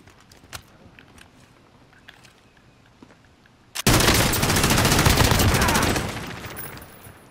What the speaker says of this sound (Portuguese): estão atirando já